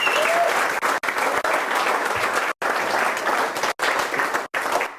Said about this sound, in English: Man, another round of applause for Jerome.